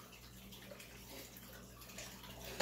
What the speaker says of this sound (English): Just get everything a little bit of a rinse here.